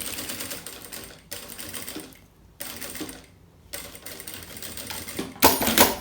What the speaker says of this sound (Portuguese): E vou passando aqui a costura pra prender